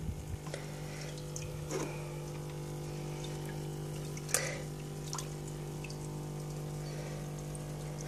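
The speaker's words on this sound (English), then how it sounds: "And then you take some water out of the new tank." Water sloshing and trickling as some is taken out of a new betta fish tank, with a few soft splashes and drips over a steady low hum, fairly quiet and close.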